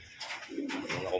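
Racing pigeons cooing in a loft after a training flight, a few soft, low warbling coos close by, with brief bursts of background noise between them.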